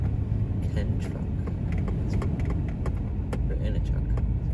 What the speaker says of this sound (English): We're in a truck.